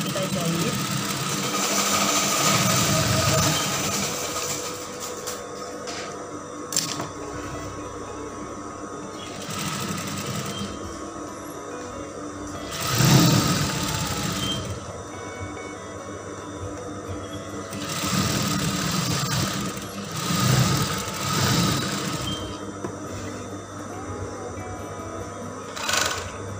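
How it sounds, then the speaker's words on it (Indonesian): A sewing machine stitching a plain gamis dress with brocade lining fabric, a close mechanical whirring hum running in bursts and pauses, with intermittent talking over it. "kemudian baru ini kita jahit."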